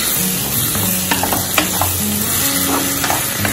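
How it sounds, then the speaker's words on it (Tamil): Onions and tomatoes sauté in a hot pan for prawn curry, with a continuous sizzle and frying hiss broken by light stirring scrapes, close and loud with no talk. "தக்காளி கொஞ்சம் நல்லா வதங்கட்டும்"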